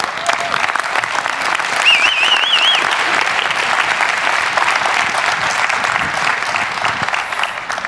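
A conference audience applauds steadily for a clinical psychologist as she is welcomed on stage, a dense, even wash of clapping that holds for the full stretch with no pause.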